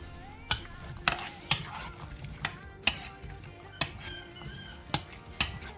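A spoon stirs a summer side dish dressed with lime juice in a bowl, making about nine sharp clinks and scrapes in an uneven rhythm, close and clear with no talking.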